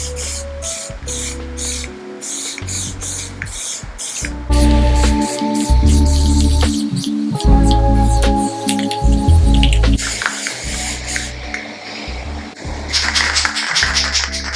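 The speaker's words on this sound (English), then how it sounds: "Let's hit this cloud up here with this light blue. And we're gonna get some overspray on the outside" Spray paint hisses from cans onto graffiti art in repeated loud bursts of varying length, close up. Rattles and clicks sound between the sprays, and there is no talking.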